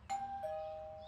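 A doorbell in the video game Beyond: Two Souls gives a single soft two-tone ding-dong, the second tone lower and ringing out clearly over a quiet background.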